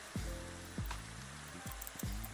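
Steady hissing patter of rain falling in the Minecraft video game, soft and continuous throughout, broken by a few low thumps and tonal game sounds.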